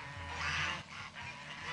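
Geese honking nearby, a few loud, nasal calls overlapping in quick succession over a short stretch, with no talking.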